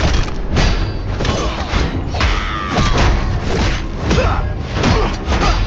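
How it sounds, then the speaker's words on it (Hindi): Booming explosions from bombs thrown by a boss enemy in the Game of Thrones: Kingsroad video game, repeated heavy thuds and blasts every second or so over a dense, loud battle din. "अच्छा पावरफुल है बहुत और ऊपर से बम भी फेंकता है।"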